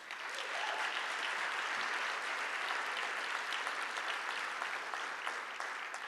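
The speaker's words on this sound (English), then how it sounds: "that in itself deserves a round of applause" A crowd claps steadily for several seconds, a dense, even patter of applause heard from a little distance.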